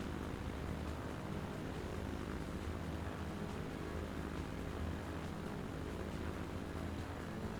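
Steady, loud propeller airplane engine drone from a plane in flight in the video game Transport Fever 2, a continuous broadband roar that holds even throughout, with no talking.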